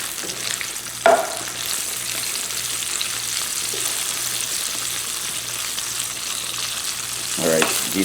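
Brussels sprouts and bacon frying in a pan give a steady sizzle, with a couple of scraping stirs near the start and the end.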